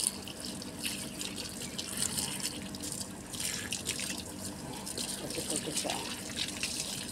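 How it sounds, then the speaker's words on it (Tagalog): Tap water runs steadily while potted flowering plants are rinsed, a continuous splashing gush with bursts of spray; someone talks over it now and then. "Hugasan natin ng tubig"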